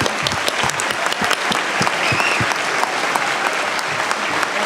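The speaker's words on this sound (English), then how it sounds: "Give them a big round of applause, everyone." A crowd at a party leadership debate applauds the candidates, with sustained, dense clapping from many hands and a few sharper individual claps standing out near the front.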